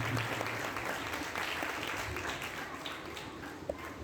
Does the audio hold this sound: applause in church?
yes